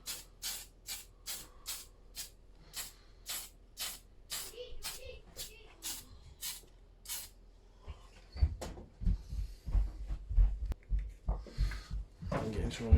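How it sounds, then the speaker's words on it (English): Tamiya surface primer sprayed from an aerosol can onto a diecast Ford Capri Mk3 Zakspeed model, a series of short, rhythmic hissing bursts, followed by softer handling clatter and faint rustling. "So I'll just give it a quick spray over."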